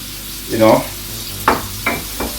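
Salmon frying in a pot for a Jamaican curry salmon dish, shaken so it won't stick: a brief scraping rattle, then three short sizzling bursts close by.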